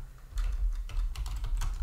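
Fast typing on a computer keyboard, a steady run of close, crisp key clicks with a few louder strokes, heard alone without speech.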